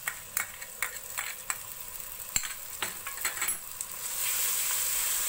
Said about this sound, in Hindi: अदरक लहसुन का पेस्ट डालेंगे इसमें 2 टेबल स्पून,